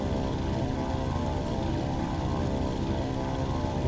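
Heinkel bomber engines drone steadily in WWII Online, a loud continuous propeller hum filling the air with no break over the whole stretch.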